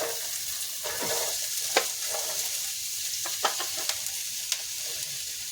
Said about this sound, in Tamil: சூடானதுக்கப்புறம் நம்ம வெங்காயம் போட்டு வதக்கிக்கலாம்